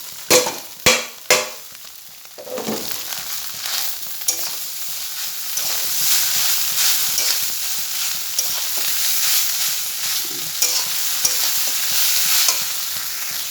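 Chow mein with vegetables and egg is stir-fried in a pan: a few sharp utensil knocks open, then a continuous close sizzle with scraping stirring strokes throughout.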